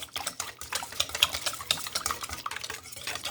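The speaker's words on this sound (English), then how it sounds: "Just taking a little whisk and whisking it all together" A small whisk beats an egg mixture for whole wheat bread dough in a bowl, quick irregular clinking and sloshing strokes at close range, fairly quiet and without talk.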